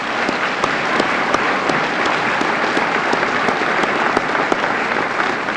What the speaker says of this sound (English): Let's give all these students a great round of applause.